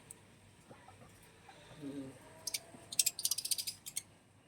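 Pet birds nesting inside a clay pot give a quick burst of sharp, bright chirps and calls while eating their morning feed, mostly clustered in the last two seconds over a quiet, low background.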